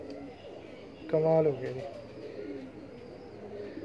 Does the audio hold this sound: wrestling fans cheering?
no